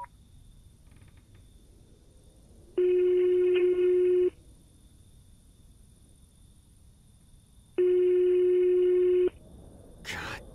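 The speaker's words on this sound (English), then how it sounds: "Please pick up the phone." Ringback tone on a phone call in the video game Greyhill Incident: two long steady electronic rings, each about one and a half seconds, separated by a quiet pause of several seconds while the call waits to be answered.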